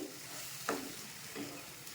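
A quiet sizzle from a pan of tamarind mixture with a spoon scraping and stirring through it a couple of times, faint and close.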